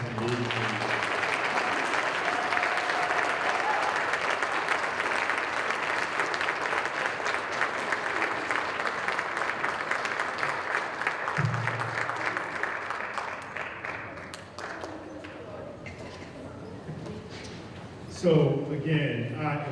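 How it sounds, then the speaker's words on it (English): Audience at an MLK Day event applauding, dense sustained clapping from a large crowd for most of the stretch before it thins and fades out, followed by a voice speaking. "Another round of applause for that amazing."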